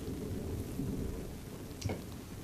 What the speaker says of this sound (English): It's a hailstorm.